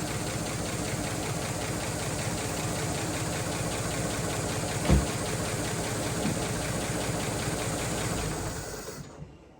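A 1931 Chevy Coupe engine runs with retarded timing at 18 degrees, a steady, rapid knocking rhythm, a single thump partway through, then shuts off and falls silent at the end.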